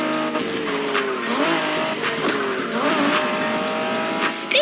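A 1990s Honda NSX races in the video game The Crew Motorfest, its engine droning loudly and shifting pitch while tires squeal and skid throughout.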